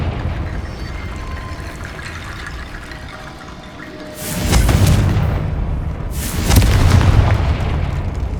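Confringo fire spell going off in the PS5 game Hogwarts Legacy, two heavy booming bursts with a rushing roar, each rolling on for about two seconds over a dense ambient game bed.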